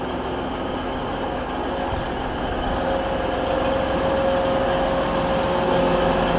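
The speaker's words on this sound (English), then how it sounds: "a Transpennine Express service to Middlesbrough, 185 144 is slowly crawling its way into platform 14" A Transpennine Express Class 185 diesel unit creeps slowly into platform 14 at Manchester Piccadilly, a steady low engine drone and rumble with a faint tonal whine, continuous and fairly close with no talking.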